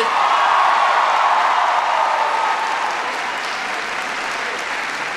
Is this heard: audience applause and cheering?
yes